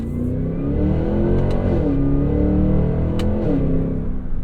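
The 2024 Cadillac Escalade V's engine revs loud and close, its deep roar climbing in pitch and then dropping with quick upshifts, one after another, with no talk over it.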